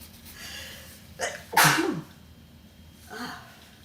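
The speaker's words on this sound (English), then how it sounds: "You got one more sneeze." A single sharp human sneeze during a morning live stream, preceded by a short inhaling catch and followed by a faint breathy exhale, close to the microphone and otherwise quiet.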